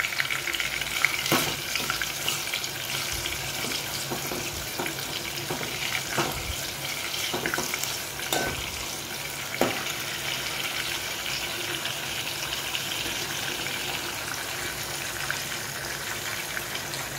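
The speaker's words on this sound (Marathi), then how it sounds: "बघा टोमॅटो कसा त्याच्यामध्ये शिजत आहे तेलामध्ये आणि कढीपत्ता पण एकदम छान प्रकारे फ्राय झालेला आहे" Tomato pieces and curry leaves fry in hot oil in a pan, giving a continuous close sizzle with a few soft clinks and stirring scrapes scattered throughout.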